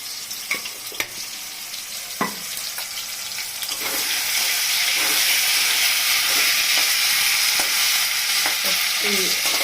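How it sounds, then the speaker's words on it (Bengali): Potatoes frying with spices in a pan give a close sizzle that swells into a loud, continuous hiss partway through, preceded by scattered scrapes and knocks of stirring; no one speaks. "মশলা মেশাতে মেশাতে আলুটাও মোটামুটি ভাজা হয়ে গেছে।"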